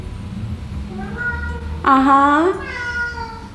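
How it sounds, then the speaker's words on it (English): A male cat meows loudly and insistently from close by, one drawn-out, rising cry lasting about a second, while using his litter box, with faint household noise and a few softer sounds around it. "my cat is using his gentleman chamber"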